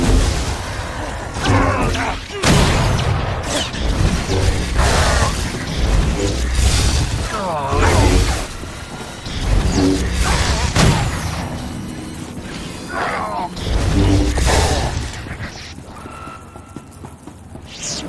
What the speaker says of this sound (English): Detonating ion bombs. Listen to them pop.